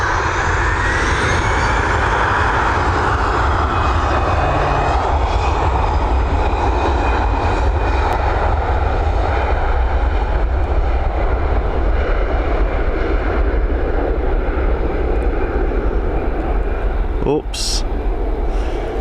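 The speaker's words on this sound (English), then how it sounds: "Heading over to Brussels now with this Airbus A320, 12 years old, registered in May of 2011" Airbus A320, 12 years old, departing Dublin Airport for Brussels, its engines giving a loud, sustained roar that swells slowly, with a brief sharp knock near the end.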